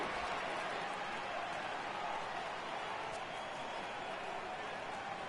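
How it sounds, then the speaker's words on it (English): Crowd noise from the baseball video game MLB The Show, Yankees vs Angels, rising as the count goes full: a steady, dense roar of spectators that holds evenly throughout without breaks. "Crowd gets up for the 3-2."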